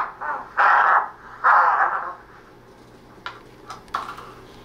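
Raspy, squawking scrapes as a fingernail scrapes a grooved plastic string resonate through a paper cup: a few long, loud drawn-out screeches, then shorter, fainter scratches.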